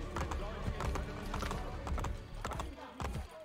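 Horse hooves clip-clop in a quick, uneven rhythm at a moderate distance in the video game Assassin's Creed Brotherhood, with some background sound mixed in.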